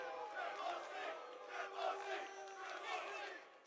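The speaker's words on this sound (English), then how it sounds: "Can you guys boo me first before I start?" A crowd at a UFC 323 pre-fight press conference boos in a sustained, rolling jeer that swells and dips in several waves, moderately distant and with no clear speech.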